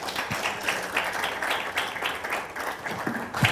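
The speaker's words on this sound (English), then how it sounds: "A round of applause, please." Applause from an audience welcoming a speaker at a law entrepreneurship talk, steady close clapping throughout with a faint voice briefly underneath.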